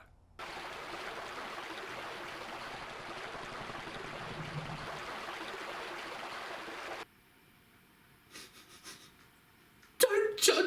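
Shower water sprays steadily onto Sully in the Monsters Inc Scare Island video game, a broad hissing rush that cuts off abruptly, followed by faint clattering sounds and a brief burst of noise.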